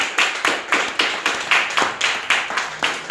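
A church congregation claps together in a steady, even rhythm of sharp, close hand claps, about four per second, with no voices over it.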